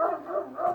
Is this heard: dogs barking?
yes